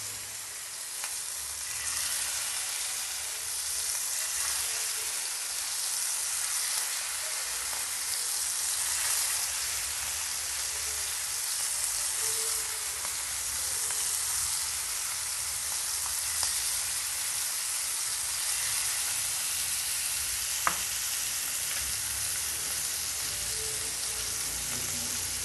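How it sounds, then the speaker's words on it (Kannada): Prawns frying on a tawa in hot oil, a steady dense sizzle that holds evenly throughout, close and fairly loud with no voices over it. "ಫ್ರೈ ಆಗ್ತಾಯಿದೆ ಇವಾಗ."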